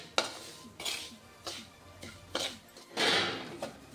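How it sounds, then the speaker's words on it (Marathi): A spoon scrapes and knocks against a pan while asafoetida is stir-fried in amla pickle masala, giving a rhythmic series of clinks and scrapes. "हिंगसुद्धा आपण ह्या मसाल्यात छान परतून घेऊया."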